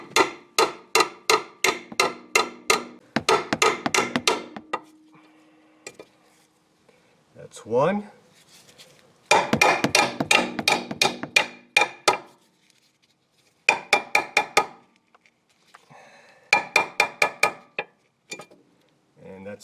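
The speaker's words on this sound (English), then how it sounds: "And now these two, try to hammer them out." Repeated sharp metallic hammer blows in rapid bursts, loud and close, hammering out ball joint rivets, with pauses between series and a brief spoken remark.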